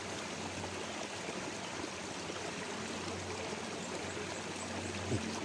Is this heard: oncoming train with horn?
no